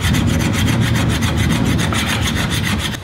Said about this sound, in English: By finishing with a draw file technique, you're going to get all the lines going in one direction